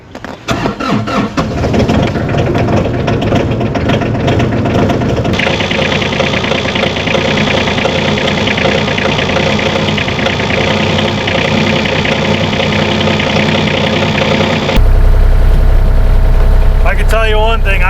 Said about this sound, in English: So we're going to turn the key on and get this thing fired up. Let it run, warm up for a minute.